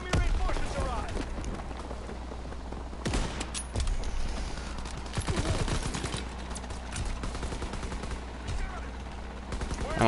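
Gunfire in Call of Duty WWII, a World War II shooter in War mode, crackling in steady bursts with heavier shots over constant battle noise, while voices talk underneath.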